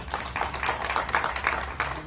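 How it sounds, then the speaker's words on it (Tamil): An audience claps steadily to welcome guests at a Tamil wedding event honouring actors Arjun and Thambi Ramaiah, a sustained ripple of many hands at moderate distance with no talk on top. "திரு அர்ஜுன் அவர்களையும் திரு தம்பி ராமையா சார் அவர்களையும் நாம் அனைவரும் சேர்ந்து கைத்தட்டி வரவேற்போம்."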